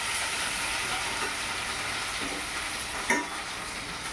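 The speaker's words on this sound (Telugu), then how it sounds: "ఉడికిన మటన్ని వేయించుకుంటున్నాం అన్నమాట" Boiled mutton frying in a pan gives a steady, fairly loud hiss throughout, with one brief clink of a utensil near the end.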